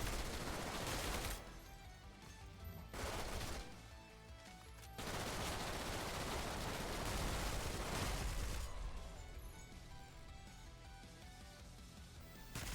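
Rapid bursts of gunfire from a magazine being emptied in the Roblox-style video game Decaying Winter, dense sustained firing in several long stretches with brief gaps, loud and continuous.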